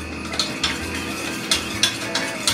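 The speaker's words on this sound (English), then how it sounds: "Okay, now let me just mix it." A spoon stirs homemade eggnog with nutmeg in a bowl, giving repeated light scraping clinks at a steady rhythm, close and fairly clear over faint background hiss.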